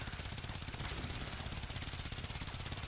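Rapid automatic gunfire from a weapon in the video game Warframe, fired as one steady sustained burst of dense, close, loud shots with no pauses and no talk.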